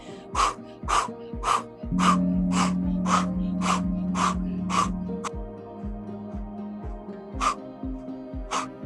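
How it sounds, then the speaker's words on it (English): Sharp forceful exhales come in a steady rhythm, one with each forward punch during a kundalini breathing exercise, about ten bursts over a low droning tone. "Every time we punch, we're gonna exhale."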